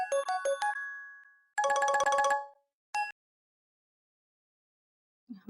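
A phone rings with a bright electronic ringtone melody in short bursts separated by silence, clear and close.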